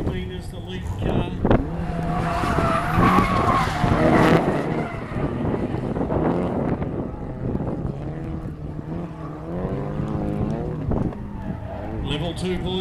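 Race cars in a two-car heat at a 2015 motorsport event rev hard while tires squeal and one car spins out, with rising and falling engine notes under a commentator's voice.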